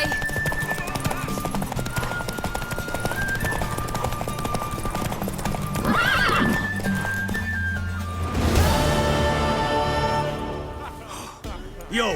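Horse hooves clip-clopping with occasional whinnying in The Witcher 3, mixed under game music and character dialogue throughout.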